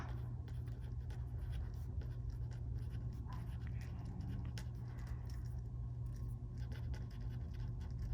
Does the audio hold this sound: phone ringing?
no